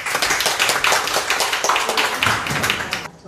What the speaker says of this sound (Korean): 박수 좀 주십시오.